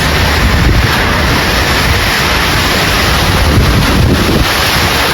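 Strong typhoon wind battering the microphone at a rural home in the Philippines, a constant loud roaring rush and buffeting that drowns out everything else, with no voices.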